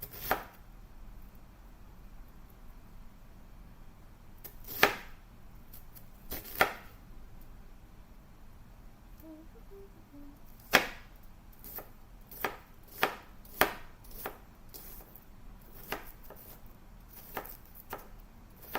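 Knife chopping onions on a cutting board, a long run of sharp close thwacks at uneven intervals, sometimes quick in pairs, with quiet gaps between and no talk.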